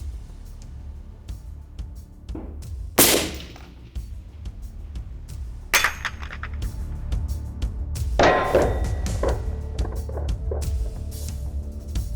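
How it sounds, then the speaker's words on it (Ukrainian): A sharp, loud gunshot at a Russian 6B7-1M helmet rings out at the start, followed by further loud impacts and clattering bangs against steady low background noise. "Так, пробуємо. Постріл."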